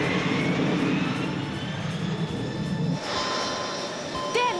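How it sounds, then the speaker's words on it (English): Multi-engine aircraft engines drone steadily and loud in flight, a dense continuous roar that thins and shifts partway through, with a brief higher whine near the end. "Come on, engines. Just hang in there."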